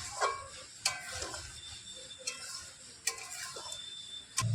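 Spoon stirring a spice mix into olive pickle in a pan, giving scattered close scrapes and sharp metallic clinks against a faint sizzle, with a louder knock at the end.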